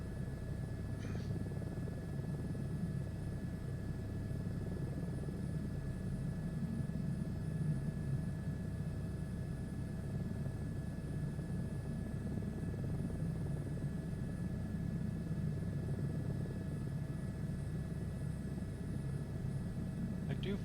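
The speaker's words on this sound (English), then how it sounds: "I do find the H125 pretty easy to fly as the other helicopters go." An Airbus H125 helicopter flying in Microsoft Flight Simulator 2024 makes a constant low turbine and rotor hum with a faint steady whine, running evenly beneath someone talking for most of the stretch.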